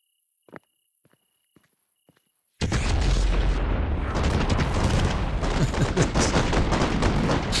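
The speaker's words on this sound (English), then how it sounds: "So that's what happens when we blow out the fireworks shot." In the video game Fireworks Mania, a few sharp pops and footsteps come first, then a loud firework shot bursts into a dense, continuous roar of crackling explosions that carries on to the end.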